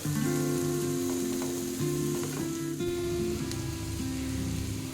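Onion, capsicum and chilli fry together in a pan for macaroni pasta, a continuous crackling sizzle at a steady level over a constant humming drone, close and without talk.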